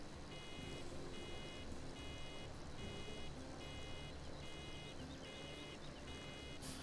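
In Farming Simulator 17, a vehicle backs up with a steady, evenly timed pattern of electronic reversing beeps over a continuous low engine drone.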